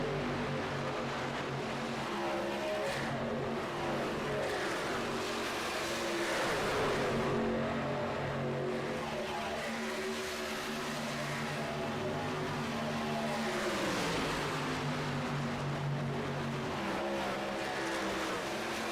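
Race cars roar around the Charlotte oval in a continuous, dense engine drone, with pitches rising and falling as packs of cars pass and accelerate, loud and sustained throughout.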